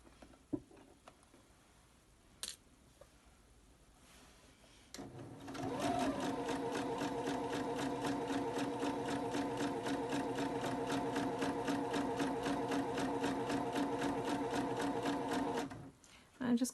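A domestic sewing machine stitches fabric for a scarf in one steady, rapid run of about ten seconds. Close and even-paced, it is preceded by a few quiet clicks and handling sounds.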